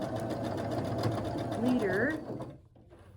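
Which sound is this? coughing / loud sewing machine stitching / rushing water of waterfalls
loud sewing machine stitching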